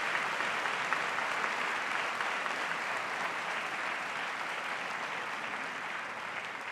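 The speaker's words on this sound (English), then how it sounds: "give them a round of applause" An audience at a Princeton University event applauds, a dense, sustained wash of clapping from a large crowd that tapers slightly toward the end.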